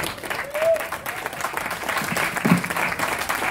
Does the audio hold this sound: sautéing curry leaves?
no